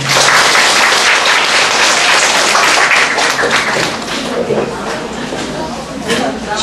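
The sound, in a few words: audience applause after a lecture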